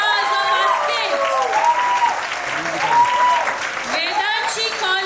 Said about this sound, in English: Parents, please give a huge round of applause for stars of our state